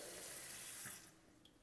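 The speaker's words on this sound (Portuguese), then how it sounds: "uma torneira monocomando gourmet da cor preta" Water runs from a black single-lever gourmet kitchen faucet into a stainless steel sink in a steady close hiss, then cuts off, leaving a faint trickle.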